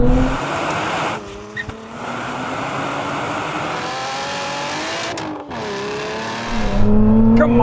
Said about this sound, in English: I am going to launch it with the launch control